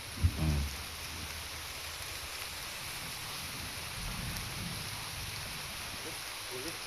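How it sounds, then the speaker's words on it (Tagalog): Steady rain falling outdoors in a rural Philippine setting, a dense even hiss throughout, with a brief thump near the start and faint low background sounds. "Ulan na."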